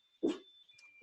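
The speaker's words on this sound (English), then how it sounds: "that's my dog barking" A dog at home gives two short barks about a second apart, sharp and fairly close, with quiet in between.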